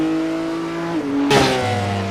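A GT3 race car in the iRacing sim spins out: a steady engine drone drops in pitch, then a sudden harsh burst of tire squeal and revving noise takes over, loud and alone without commentary.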